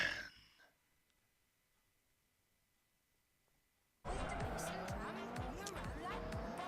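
Racing cars from the Forza Horizon video game cut in suddenly partway through: loud, continuous engine roar with sweeping revs and tire squeal, following a brief sound at the start and a few seconds of near silence.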